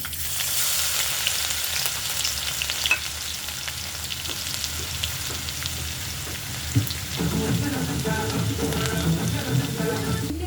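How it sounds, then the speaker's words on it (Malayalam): Steady crackling sizzle of ginger frying in hot oil after mustard seeds have popped, with scattered pops and stirring scrapes, close and fairly loud throughout. "കടുക് പൊട്ടി അടുത്ത് ഞാൻ ഇഞ്ചി അതിലേക്ക് ഇടുകയാണ്"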